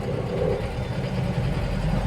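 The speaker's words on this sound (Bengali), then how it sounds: "12 চাকা গাড়ি আছে, ঘুরাইতেছে এখন গাড়িটা।" A loaded 12-wheel cement truck turns, its engine giving a steady low rumbling drone close by with no break in the sound.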